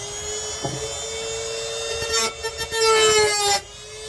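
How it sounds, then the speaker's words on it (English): A Dremel rotary tool cuts a notch into a guitar body, a high steady whine that bites and chatters in short bursts as it meets the wood, close and fairly loud. "mark it with my Dremel"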